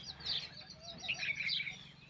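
Several house sparrows chirp in busy, overlapping bursts at moderate distance by a house doorway, over a low background hum.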